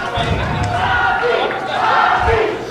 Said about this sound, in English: This crowd going crazy for the Mastermind